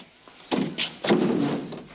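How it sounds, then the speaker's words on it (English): A prison door is forced and banged, giving two heavy dull thumps about half a second apart, close and fairly loud, with no voices. "Can't get the door open."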